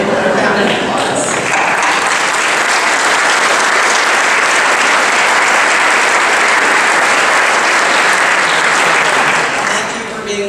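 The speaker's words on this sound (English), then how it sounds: "would you please stand up if you're willing to admit it, and we can give you a round of applause." Sustained loud audience applause for elected officials at a gathering, a thick wash of clapping that holds steady for about ten seconds before tapering off at the end.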